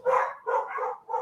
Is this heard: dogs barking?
yes